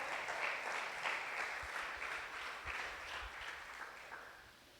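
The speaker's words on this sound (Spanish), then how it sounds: "¿Cuántos dicen amén y cuántos le dan un aplauso al Señor?" A church congregation bursts into warm, sustained applause during a sermon, a dense crowd of clapping hands that swells early and gradually fades over several seconds.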